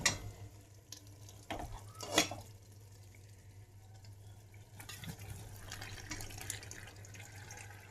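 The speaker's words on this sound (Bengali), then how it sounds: "ভেজে রাখা আলুগুলো মিশিয়ে দিলাম" Fried potato pieces being stirred into a pan of almost-cooked spiced minced meat, with soft scraping and gentle sizzling at close range over a steady low hum, without any talking.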